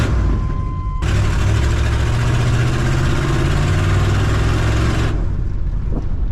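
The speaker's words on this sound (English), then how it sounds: "Got a little bit of an exhaust leak." A big-block Suburban engine with an exhaust leak runs steadily, then a loud, rough roar takes over for several seconds before dropping back to a quieter idle.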